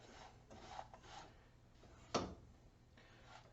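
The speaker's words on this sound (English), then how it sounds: "It's stirring and sounding dry." Spice roasted nuts stirred dry in a pan, soft rubbing and scraping sounds with one sharper knock, faint and close.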